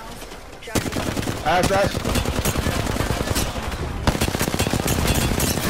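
Rapid automatic gunfire in a ranked Apex Legends match, dense loud bursts that run almost continuously, with a brief pause, while a player speaks over them.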